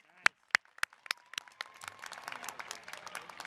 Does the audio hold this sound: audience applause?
yes